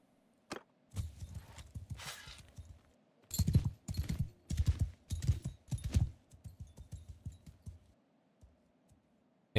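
A mass of cavalry horses in Mount & Blade II: Bannerlord thundering forward, hoofbeats arriving in clustered rhythmic bursts separated by brief lulls, fairly close and with no talking over them.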